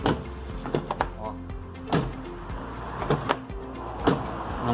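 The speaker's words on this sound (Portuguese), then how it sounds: "a única coisa que dá para escutar é a fechadura" Door lock on a Porsche Macan latching as the door is worked, several sharp clicks and thuds at irregular intervals, close by in a quiet workshop.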